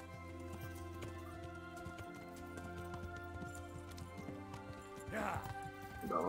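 A horse galloping in the video game Kingdom Come: Deliverance, a rhythmic run of hoofbeats under a steady game soundscape, with a louder burst of rustling near the end.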